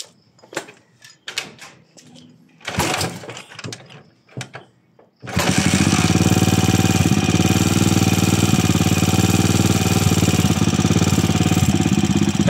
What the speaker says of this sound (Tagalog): ingay ng makina. Talagang maingay na yan kasi may tama na yung follower niyan.